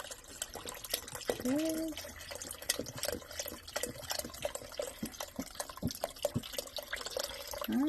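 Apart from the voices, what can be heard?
vegetable broth poured into minestrone soup pot, splattering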